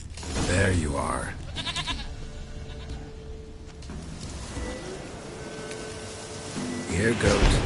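Goat bleating in The Witcher 3, a few short nasal bleats near the start and end over game ambience, with someone talking in between.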